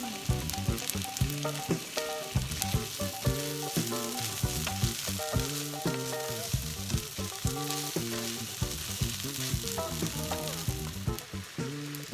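Shrimp fried rice ingredients stir-fry with a loud continuous sizzle and regular tossing and stirring clatter, under a bed of steady background music.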